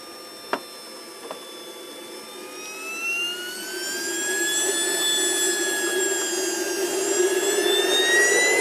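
Huge RC scale model of the Voyager aircraft with a turbine jet engine, running steadily with a rising whine that swells and holds loud over a broad roar, after two brief clicks near the start.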